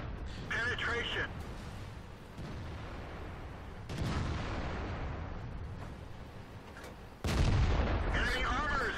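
Heavy tank cannon shots from a Tiger P in World of Tanks on the Siegfried Line map: a few deep, booming blasts spaced several seconds apart with rumbling decay, the loudest near the end, under a talking voice.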